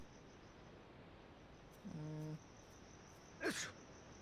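A character in the life-simulation game Paralives gives a single short, bright sneeze near the end, alone over a faint chirping insect-like ambience and a brief low tone.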